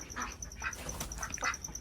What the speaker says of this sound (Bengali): দেখুন এই সাইডটা হাঁস আজকে বাবা কিনে নিয়ে এসছে হাটের থেকে